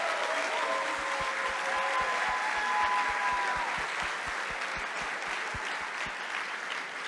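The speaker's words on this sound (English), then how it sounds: "I'd like to start with a huge round of applause for the Marias and all the other organizers" Sustained audience applause at a hackathon closing ceremony, broad steady clapping filling the room, with a regular low thumping beat running underneath and a few faint voices.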